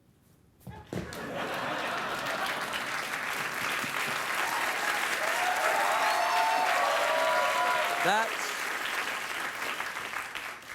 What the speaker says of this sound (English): You applauded failure.